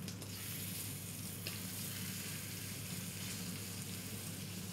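Quails sizzling in a pan with a little butter and sauce as they are turned, giving a continuous dense frying hiss, steady and close, with no talking.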